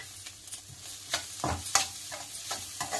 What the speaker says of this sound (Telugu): బాగా కలిపేసుకోవాలి.